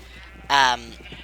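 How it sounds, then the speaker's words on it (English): A sheep bleats once in the Minecraft Mineplex Snake mini-game, a short loud in-game bleat over faint background talk. "You have a stream of sheep behind you"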